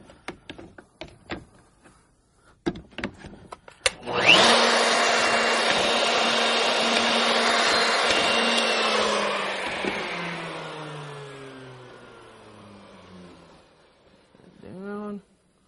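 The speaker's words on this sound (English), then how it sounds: "toggle it in place, and drill the holes." A power drill bores holes through a wooden workpiece held in place by a toggle clamp, with a loud sustained whine lasting several seconds that slowly winds down. Brief knocks come before it, and a short voice follows.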